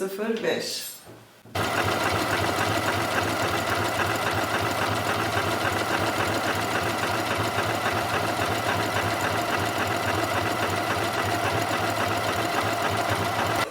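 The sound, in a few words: Janome MC 6700P sewing machine sewing an elastic stitch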